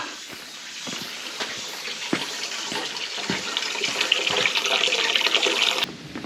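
Spring water runs steadily at a mountain mineral spring, a close, constant splashing trickle that swells slightly louder toward the end.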